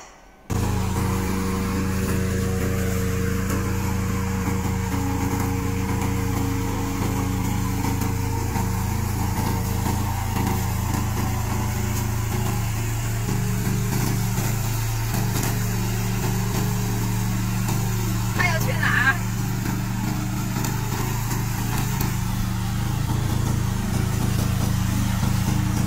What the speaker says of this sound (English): We are a remote control mower factory, and this is one of our products.